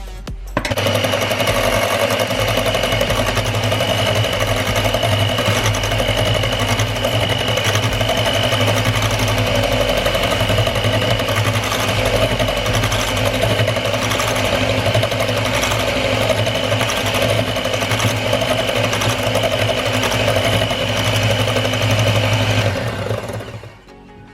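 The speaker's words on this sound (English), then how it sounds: "You can also use a mixer to mix it in." An electric mixer whirs steadily while blending a whitening lotion, a loud, even motor drone that runs for over twenty seconds without pause before cutting off at the end.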